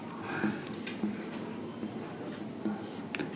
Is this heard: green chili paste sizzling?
no